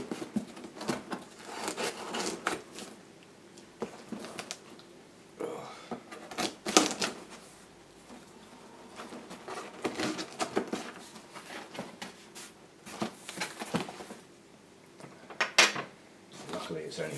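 A tightly taped cardboard box holding orchid supplies is pulled and torn open, with repeated crackling rips and scraping bursts that come close and fairly loud in irregular spurts.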